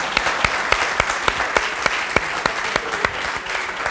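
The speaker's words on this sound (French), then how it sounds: "On applaudit Alex pour son pronostic" A small group claps warmly for a correct basketball game prediction, with steady brisk hand claps and a few sharp louder strikes standing out over about four seconds.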